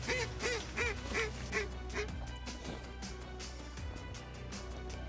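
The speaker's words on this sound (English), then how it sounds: "Right off the bat, the ducks are working." Ducks quack repeatedly on icy water at a Thanksgiving hunt, a run of loud, close, evenly spaced calls in the first two seconds, then fainter scattered quacks over steady background noise.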